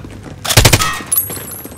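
Gunfire in Call of Duty: Modern Warfare, a loud close rapid burst of several shots followed by a ringing tail and a fainter second report.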